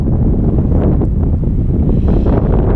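A west wind buffets the microphone outdoors, producing a loud, continuous low roar with no let-up across the whole stretch.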